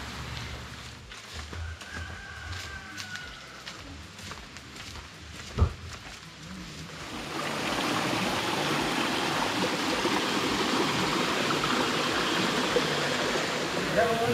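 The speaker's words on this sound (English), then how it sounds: "This pretty much looks like a stream right now actually." A small river runs beside a jungle trail near Yelapa, Jalisco, with a steady broadband rush of flowing water. It starts softer with a few taps and a clear knock, then swells to a loud, constant wash.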